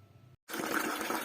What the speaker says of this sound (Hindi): गर्म पानी में इसको हम अच्छे से वॉश करेंगे।